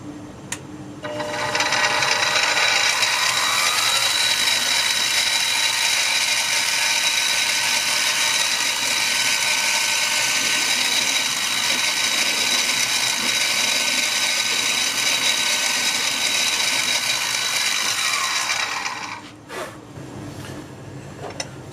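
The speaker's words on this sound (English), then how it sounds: "I'm going to go ahead and drill that hole" A steady whirring power drill runs continuously for about eighteen seconds, close and loud, drilling a hole in a knife handle, then winds down and stops.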